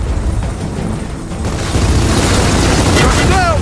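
Tracker robot blowing up in Gears of War 4, a loud booming blast that swells midway and rumbles on amid dense combat noise, with a voice speaking.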